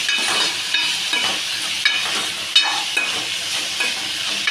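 Potatoes fry and sizzle in a pan while being stirred, a steady crackling hiss broken by scraping spatula strokes at an even, unhurried pace, close and alone with no talking.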